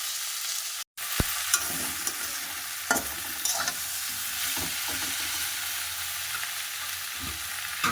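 Potato curry (aloo dum) with chilli, turmeric and cumin powder frying and sizzling in a pan, steady close hiss broken by repeated scraping stirs, with no talking.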